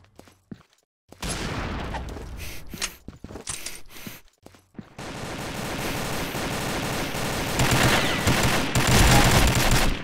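Gunfire in the video game Combat Arms: bursts of automatic rifle fire building into a sustained, loud volley of rapid shots after a few short broken bursts early on.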